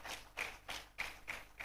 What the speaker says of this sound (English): we should give ourselves a round of applause for coming this far